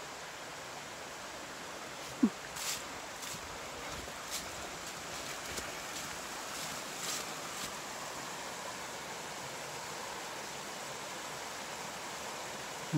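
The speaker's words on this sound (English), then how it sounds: "Nice little, small little waterfall there." Small waterfall and babbling creek beside a mossy forest trail on Vancouver Island, a steady broadband rush of falling water heard close and continuous, with a few faint clicks and footsteps scattered through it.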